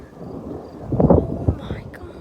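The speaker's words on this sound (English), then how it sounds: "So much lightning everywhere and thunder. It's so loud." Loud rumbling thunder from a nearby thunderstorm with frequent lightning, rolling and swelling in bursts over a steady background of wind and rain noise.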